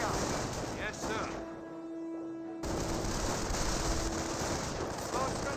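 Dense overlapping rifle and machine-gun fire from a World War II battle in the strategy game Company of Heroes, a continuous loud crackle of shots with a short lull partway through.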